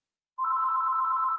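A telephone rings with a steady electronic trill, a single continuous tone that starts abruptly and carries on alone, close and clear with no talk over it.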